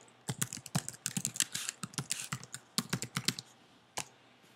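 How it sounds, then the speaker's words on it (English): Keys clack on a Mac computer keyboard as an Apple ID and password are entered, in uneven quick bursts with short pauses and a final isolated keystroke, close and clear with no talking. "You're going to type in your Apple ID and password"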